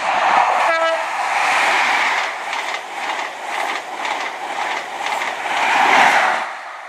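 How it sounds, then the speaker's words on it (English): An HST train to Penzance approaching a station, a loud, sustained rumble of engines and wheels with a brief horn note early on, close and continuous throughout. "Okay, approaching now to HST2 Penzance."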